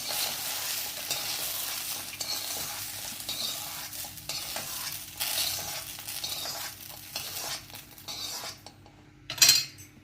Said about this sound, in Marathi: आता भेंडी भाजल्या काढून घ्यायची.